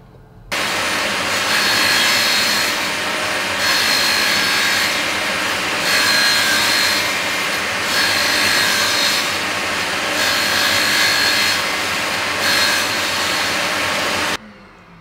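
A hand saw cuts a pipe straight across in a steady, loud, close back-and-forth rhythm of rasping strokes that runs for about fourteen seconds with no talk.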